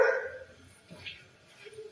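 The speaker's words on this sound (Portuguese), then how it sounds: "Latindo para quem, cara?" A dog barks toward a corner of a home kitchen, with a loud bark at the start followed by fainter yips and whimpers, while people talk quietly nearby.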